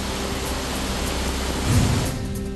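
Heavy monsoon rain falling in Dahanu, Palghar district, a dense steady roar of downpour with a brief louder surge near the end.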